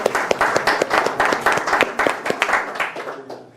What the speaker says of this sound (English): so give yourself a hand.